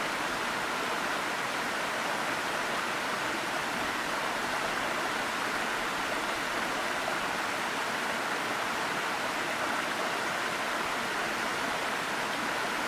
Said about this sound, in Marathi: राज्यातील शिमोगा जिल्ह्यातील मस्तीकट्टेजवळील निदागोडू गावात असलेला सर्वात उंच धबधबा.